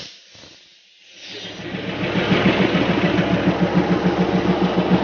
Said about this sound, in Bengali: সেই ফেমাস স্টিম ইঞ্জিন ধোয়া উঠছে